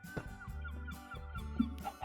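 A chicken clucks in the block-building game Hey!!!Craft, a few short, throaty fowl calls repeating close by with brief pauses between them.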